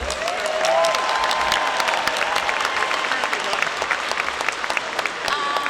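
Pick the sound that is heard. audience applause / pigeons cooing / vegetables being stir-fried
audience applause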